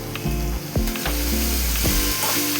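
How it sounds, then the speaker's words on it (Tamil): Potato pieces sauté in oil in a pan with a loud, continuous close sizzle, broken by a few scraping stirs of a spatula. "எல்லாத்தையும் நல்லா எண்ணெயிலேயே வதக்கிக்கலாம்."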